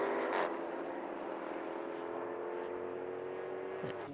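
A Jaguar XE Project 8 race car engine drones at Silverstone during a six-hour relay race, holding a steady, fairly distant whine that fades in level as the car moves away.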